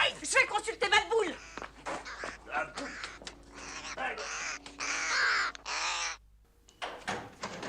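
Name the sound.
crows cawing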